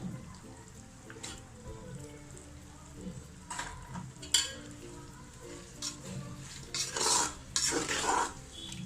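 A spoon scrapes and clinks against a metal pot in irregular bursts while mutton biryani ingredients, including meat and small onions, are stirred, with soft sizzling underneath, heard up close.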